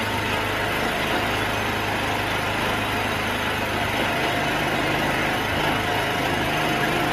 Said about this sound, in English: I honestly don't know how loud the engine is,